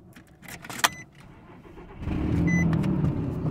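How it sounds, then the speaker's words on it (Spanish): A Nissan engine with a sensor removed and a suspected clogged catalytic converter idles after a few light clicks, then settles into a loud, steady low rumble close by, with no talk. "Va a sonar un poco fuerte porque no tengo el sensor puesto."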